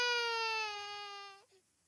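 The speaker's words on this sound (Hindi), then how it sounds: "मकान के अंदर से किसी बच्चे की रोने की आवाज आ रही थी" A child cries inside a house in a cartoon story, a single drawn-out wailing cry, clear and alone, that breaks off abruptly after about a second and a half.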